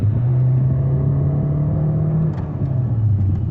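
A Hyundai Alcazar petrol engine with automatic transmission accelerates suddenly, giving a loud, steady in-cabin drone and rumble that holds, then dips briefly as it shifts before pulling again.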